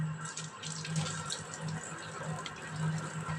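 Tap water runs into a sink as cauliflower is rinsed by hand, a steady close splashing trickle with small irregular splashes and clinks throughout, no talking.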